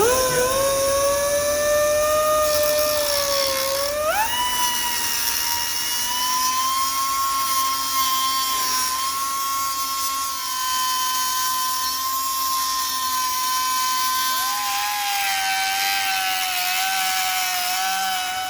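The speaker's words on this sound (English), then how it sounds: "you're gonna use a cutoff wheel to get started there" A cutoff wheel cutting metal clamped to a table during a scissor lift modification gives a loud, continuous high-pitched whine whose pitch rises and then drops as the cut loads the wheel, with no talk.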